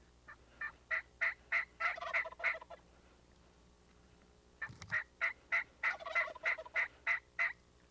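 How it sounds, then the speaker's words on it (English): Wild turkey gobbling in the open, two bursts of rapid, rhythmic gobbles a couple of seconds apart, clear and moderately distant with no talk. "If I call and he gobbles right immediately or even during the call that I'm making"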